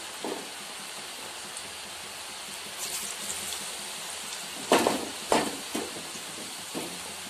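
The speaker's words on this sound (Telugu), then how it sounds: "ఫ్రెంచ్ ఫ్రైస్ ని వేసేసుకుందాం। ఇలా అనుకుంటూ వేసుకోవాలి, ఎందుకంటే అవే విడిపోతాయి ఆయిల్ లో పడిన తర్వాత।" French fries dropped into hot oil, giving a steady close hiss of frying with a few sharper crackling bursts as pieces hit the oil, no voices.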